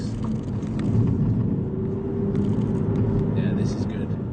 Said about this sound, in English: That is the Aston Martin Virage 2012 6-litre V12.